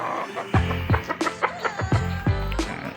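Several short, harsh clucking calls from a young rooster, repeated at irregular intervals close by, with faint background noise.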